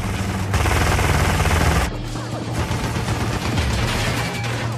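Rapid automatic gunfire from car-mounted defense weapons in a combat racing video game, a loud continuous burst with sharp crashes, shifting character midway.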